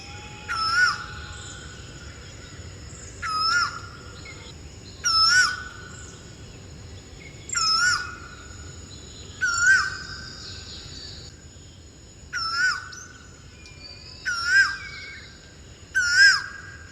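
Asian koel calling repeatedly, a series of clear, loud rising whistled notes at roughly two-second intervals, close and alone over quiet background hiss.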